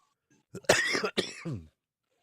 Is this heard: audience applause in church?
no